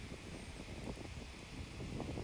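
Head-on wind on a golf course at Chassieu blows steadily across the microphone, a low buffeting rumble with faint rustle, continuous and fairly quiet with no voices.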